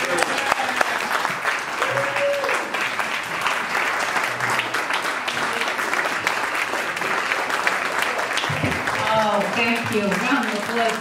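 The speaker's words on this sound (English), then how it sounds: "Round of applause there." Loud, sustained applause from an audience at a political talk held at a golf course, dense clapping throughout with voices and a speaker talking over it near the end.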